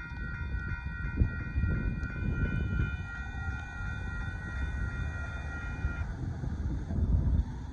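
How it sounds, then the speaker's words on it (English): A northbound Union Pacific mixed freight train rolls past at a road crossing in Austin, Texas, a steady broad rumble and clatter of cars with a sustained horn-like tone that fades after several seconds. "There goes the northbound Union Pacific mixed freight going by"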